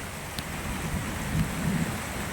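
Heavy rain during a flood, a dense continuous hiss of downpour with low rumbling water noise and a few brief louder surges, no voices.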